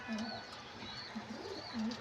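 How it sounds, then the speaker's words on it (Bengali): A pigeon coos on a rooftop in soft repeated low calls, three or four rolling coos spread over a faint hissing background. "তো এই যে দেখেন বড় একটা কবুতর আমার এখানে চলে আসছে।"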